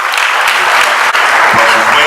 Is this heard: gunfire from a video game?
no